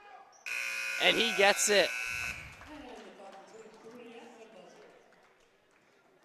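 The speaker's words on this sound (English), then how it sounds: "At the buzzer." A loud electronic end-of-half buzzer blares for about two seconds at a boys' high school basketball game, Albany vs. Guilderland, while a commentator talks over it and gym crowd noise lingers afterward.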